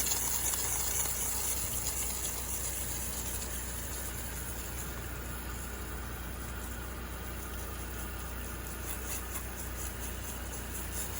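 Pressure-washer spray rinsing a house roof from the ground during house washing, a steady, loud hiss of water with a constant pump engine drone underneath, uninterrupted throughout.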